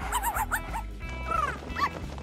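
A dog gives several short yips and barks, fairly close, mixed with whiny higher calls over a low background hum.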